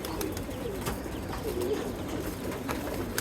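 Soft, repeated cooing of adult and young pigeons nearby, low rolling calls over a quiet background with a few faint clicks.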